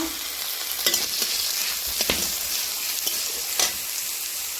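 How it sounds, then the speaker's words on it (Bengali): Chopped ginger, onion and green chili frying with spices in hot oil for a mushroom dish: a steady, close sizzle with a few scraping stirs and light clicks of the spoon, and no voice. "তেল গরম হয়ে গেলে সব মশলাগুলোকে আমি হালকা করে ভেজে নেব আদা কুচি পেঁয়াজ কুচি কাঁচা লঙ্কা"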